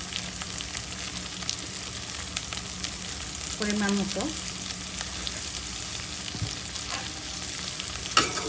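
Chopped onion, chili and tomato frying in a pan while stirred, a steady soft sizzle throughout with occasional spatula scrapes, while someone speaks briefly.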